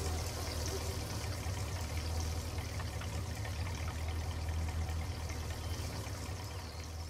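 Water pours steadily into an empty tank on a farm in Farming Simulator 19, a continuous rushing flow with a low engine hum beneath it and no voices.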